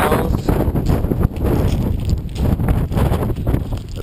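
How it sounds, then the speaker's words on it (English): Gusty wind on a Hawaii shoreline hike near a lighthouse rushes and thumps against the microphone in uneven bursts, loud and close, with no talking. "it's super windy"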